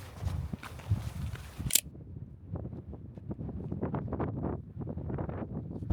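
Strong wind buffets a microphone at a lakeside viewpoint near Almaty, a rough low rumble that cuts out sharply after a couple of seconds, followed by softer gusting and faint footsteps.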